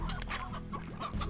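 Hens cluck in Slime Rancher, a farming video game, a busy chorus of close, overlapping clucks over a steady low background hum, with no talking.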